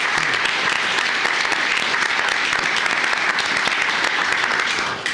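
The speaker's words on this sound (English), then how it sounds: "So let's give a round of applause to all 4 of those individuals." Audience applause in a county commissioners court chamber, steady, dense clapping from many people that continues throughout and fades slightly at the end.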